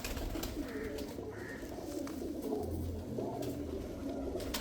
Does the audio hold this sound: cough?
no